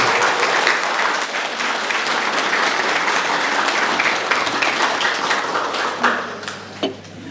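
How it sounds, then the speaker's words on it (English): An audience at a Miss Samoa pageant event applauds steadily in a dense, even wash of clapping that thins out toward the end, leaving a few scattered claps. "Ladies and gentlemen, give her another round of applause."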